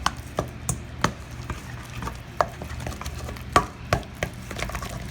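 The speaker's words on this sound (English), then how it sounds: "So I put all my ingredients together. And a pinch of salt, a pinch of pepper, and then you mix the product together." Dill is being mixed together with other ingredients, a pinch of salt and pepper included, producing a series of sharp, irregular taps and knocks from a utensil in a bowl, close up, with no talking.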